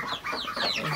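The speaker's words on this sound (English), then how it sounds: "The ducks are wanting some of the action, I guess. They're over there making all kinds of racket." Ducks kept near a brooder of Cornish chicks raise a noisy racket of quacks and squawks, steady overlapping calls close by.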